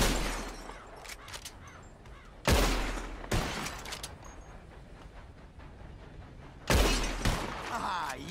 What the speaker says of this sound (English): Whoever shoots more of these bottles wins. Just draw your gun and aim when you're ready, all right?